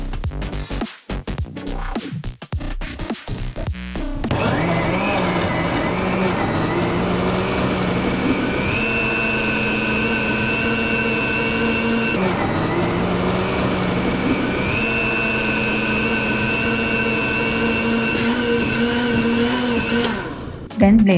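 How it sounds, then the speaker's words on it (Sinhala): An electric blender whirs loudly and steadily, blending a strawberry ice cream mixture, after a short burst of clattering at the start, the motor tone holding constant with slight pitch shifts. "දැන් මේක මේ විදිහට විනාඩි 5ක් විතර හොඳින් බ්ලෙන්ඩ් කරනවා."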